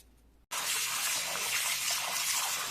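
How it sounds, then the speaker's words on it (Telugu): Tap water gushes steadily over raw mutton being rinsed clean before cooking curry, starting abruptly after a brief quiet moment and then running continuously and close. "మటన్ని నేను ఇలా శుభ్రంగా కడుక్కుంటున్నాను"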